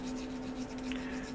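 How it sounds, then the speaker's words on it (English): A sanding stick rubs over a plastic M41 Walker Bulldog model tank part in a steady, close, gritty scrape, one continuous abrasive stroke with no voices. "So you get an all-round nice sand."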